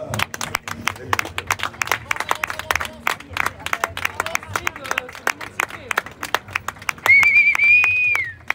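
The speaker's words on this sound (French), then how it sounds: "On peut déjà les applaudir et ils vous entendent." Scattered clapping from a crowd rises and falls under a speaking voice, with a sharp whistle near the end.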